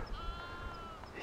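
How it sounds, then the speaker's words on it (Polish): Large black sheep bleat outdoors on a windy mountainside, a drawn-out wavering cry under blustery wind noise, fairly faint and distant. "duże te owce, wielkie,"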